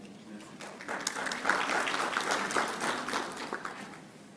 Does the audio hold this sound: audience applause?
yes